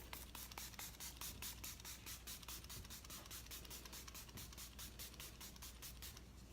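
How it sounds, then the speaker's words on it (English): A rapid series of short bursts of makeup setting spray from a pump bottle onto a face, evenly spaced and close, continuing steadily throughout. "To spray my face."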